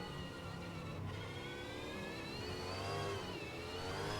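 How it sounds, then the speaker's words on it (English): Australian Supercars race car in the Automobilista racing game, heard from a roof camera at a New Zealand circuit, with a steady loud engine drone that rises and falls slightly in pitch under acceleration, no talking. "Have a listen to the engine note."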